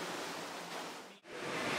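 Water jet stream pouring into a 77-liter large garbage can, a steady broad rushing hiss that briefly cuts out for a moment midway, then resumes and swells slightly louder.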